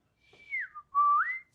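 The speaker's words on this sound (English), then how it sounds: "That explains the whistling" A clear, close whistle that glides downward, pauses briefly, then swoops back up to a high note, with no talking.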